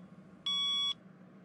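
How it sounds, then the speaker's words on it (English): An alarm in an animated cartoon gives a single clear electronic beep, about half a second long, sharp and tonal against a quiet background. "That's my alarm."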